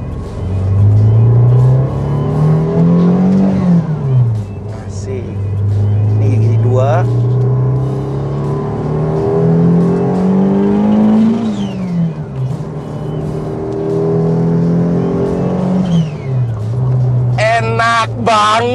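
A modified turbocharged Honda Brio with an L15A engine making 320 hp accelerates hard in first gear on an empty road, its engine note rising and falling through repeated loud revving pulls, with people talking inside the car.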